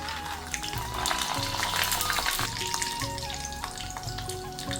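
Mustard seeds, roasted gram and peanuts crackle and fry in hot oil for poha upma, a steady close sizzle with scattered pops and a faint tonal hum underneath.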